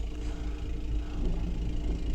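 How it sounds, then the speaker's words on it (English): Snow blowers clear snow outside as a low, steady engine rumble in the background, muffled and distant, with no voices over it. "That's people trying to dig out right now with their snow blowers in the background."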